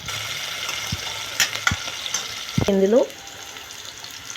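Onion and broad bean curry frying in oil in a pan, a soft steady sizzle broken by a few sharp clicks and a brief scraping squeak of stirring, with a short spoken word.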